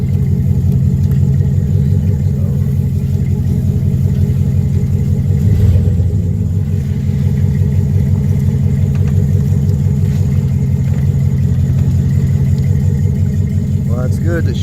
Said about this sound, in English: Well, it's good that she's moving. Let's see if the motor still works.